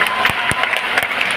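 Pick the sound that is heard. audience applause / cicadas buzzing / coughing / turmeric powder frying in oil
audience applause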